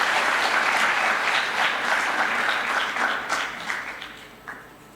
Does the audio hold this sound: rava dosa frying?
no